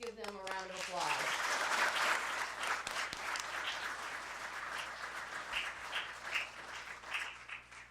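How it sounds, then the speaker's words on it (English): An audience breaks into a sustained round of applause after a speech in a room, the clapping steady and dense for several seconds with scattered louder claps near the end. "Let's give them a round of applause"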